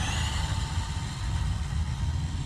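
WPL RC truck running at high speed on a LiPo battery, giving a steady, fairly faint buzzing motor whine with some rumble and background noise, continuous throughout with no talk.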